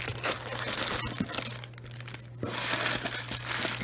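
Tissue paper crinkles and rustles steadily as wrapping is pulled from a mystery box, a close, continuous papery crackle with a brief quieter dip midway, over a low steady hum.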